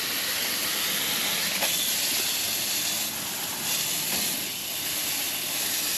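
Overheated AC compressor being watered with a hose, giving off a steady, close hiss of steam and spraying water that runs without a break and wavers slightly, with no voices.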